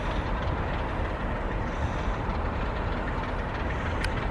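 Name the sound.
train coaches on rail line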